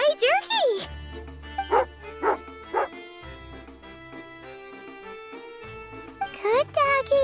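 A dog in Genshin Impact yips and barks in several quick, close bursts, some of them sharp and rising, with game music and chiming underneath.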